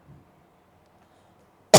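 After near silence, a single sharp cough bursts out close and loud at the very end.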